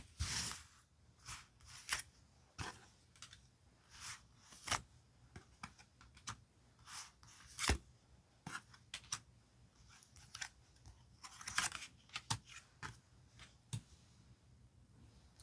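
Tarot cards are handled and picked out one by one, making a scattered run of crisp, close taps, flicks and rustles with short pauses between them and no talking.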